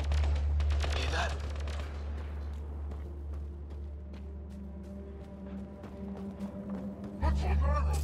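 Gunfire in the sci-fi video game Mass Effect: Andromeda, with bursts of shots at the start and again near the end, over a steady low rumble and layered under voices talking.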